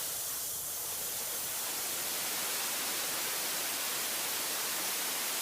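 Steady, dense white-noise static hisses evenly throughout, with no breaks or other sounds.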